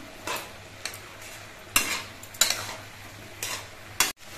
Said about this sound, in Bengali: এবার ঢাকনাটা খুলে নিচ্ছি আর শাকগুলো আরেকবার নেড়ে চেড়ে দিচ্ছি।